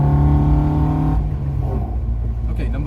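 An Alfa Romeo Giulia 105 engine is blipped with a throttle squirt, a strong steady revving drone that cuts off abruptly about halfway, leaving a lower idle rumble and faint mechanical noise.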